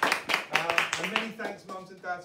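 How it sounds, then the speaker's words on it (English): A school audience at a primary school Christmas raffle claps briefly while someone talks over the applause. "Let's give them a round of applause."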